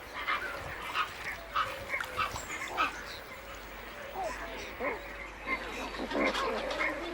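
Enormous breeding colony of pelicans hidden among reed beds, forests and water channels, giving repeated honking, grunting calls that overlap in a busy chorus at moderate distance, with a narrator speaking over them.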